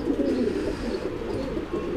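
Pigeons coo in soft, low, rolling calls that repeat steadily close by, with no other sound over them.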